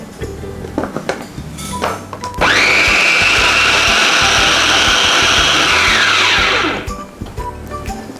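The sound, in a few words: electric food chopper grinding sautéed spice ingredients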